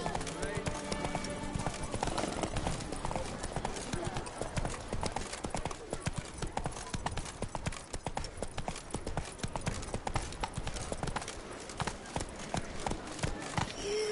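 Roach the horse clip-clops steadily on hooves in The Witcher 3, a brisk continuous rhythm of hoof falls under game ambience, with voices talking over it.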